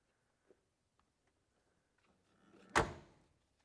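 A 1976 Pontiac Trans Am door is opened, giving one loud, fairly close thunk and latch sound with a short fading tail after near silence.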